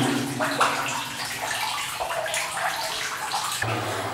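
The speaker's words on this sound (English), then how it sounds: "testing the waters to see if we can even get past the flooded portal section of this mine" Steady sloshing and splashing of water as someone wades through the flooded portal of an abandoned mine, close and continuous, with a low rumble underneath.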